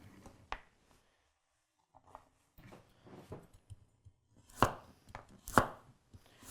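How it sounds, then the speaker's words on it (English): Kitchen knife chopping carrots on a board with a rocking motion, a handmade Sabol Brothers gyuto, santoku or kiritsuke: scattered crisp cuts building into a cluster of sharp, close chops near the end. "It can cut some serious carrot here, guys."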